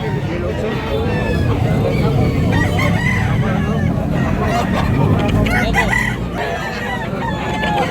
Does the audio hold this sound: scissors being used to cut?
no